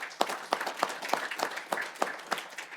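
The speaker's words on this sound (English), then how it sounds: "Let's give them a round of applause again." Audience applause at a presentation, a modest scattering of hands with individual claps clearly audible in an uneven rhythm, moderately loud and unaccompanied.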